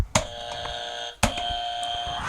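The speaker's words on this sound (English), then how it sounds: "And you see the buzzers in front of you, Wacko and Wizzo?" Two sharp electronic game show buzzers sound in turn, each a sudden loud tone that rings on and holds, the second after a short pause, with no talking over them.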